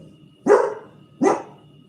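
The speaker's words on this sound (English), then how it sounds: "Listen to my dog back here." A dog barks twice from somewhere behind, two short, fairly loud woofs spaced under a second apart in an otherwise quiet room.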